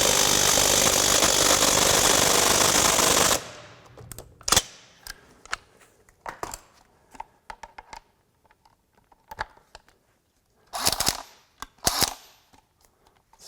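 A Metabo HPT cordless impact wrench removes a lug nut with a loud, continuous hammering rattle for about three seconds, then stops abruptly, followed by quieter clinks and handling noises of the socket and nut.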